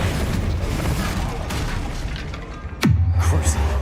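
A fiery Confringo spell blast in Hogwarts Legacy bursts at about 2.8 seconds with a sharp downward whoosh into a heavy low boom, set over a busy background of game sound and ambience.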